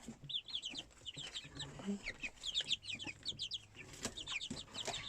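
Hens and baby chicks make a busy, close chorus of soft clucks and high peeping chirps, with a person murmuring quietly underneath.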